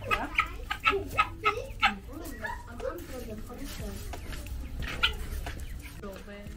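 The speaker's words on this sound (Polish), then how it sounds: "Tutaj inny rodzaj kur." Chickens at a zoo enclosure, a quick series of close clucks in the first two seconds, then a busier background of fowl and a dog's bark mixed with people talking.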